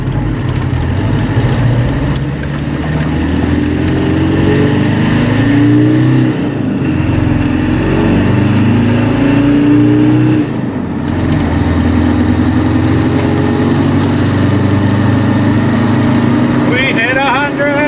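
A lifted Volvo 245 with a swapped-in Mitsubishi turbo diesel engine accelerates through the gears, its engine note rising and dropping with each shift under loud cabin and road noise, with people talking in the background.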